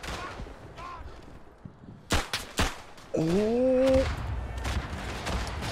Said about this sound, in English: That's a barrage and a half.